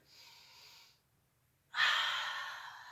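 A deep breath taken during a seated yoga twist: a soft airy inhale, a brief pause, then a louder, fuller exhale close to the mic, with no talking.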